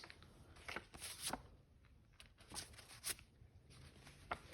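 Paper speech note cards are handled and shuffled at close range, making soft, quiet, irregular rustles and flicks with no voice.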